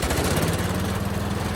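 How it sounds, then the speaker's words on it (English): A ride-on lawn mower runs steadily with its blades engaged, a loud, continuous engine drone with a rough shaking vibration from an unbalanced mowing deck, close up and without talk. "I noticed that the mowing deck shakes excessively when the blades are engaged"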